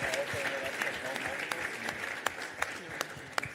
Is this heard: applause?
yes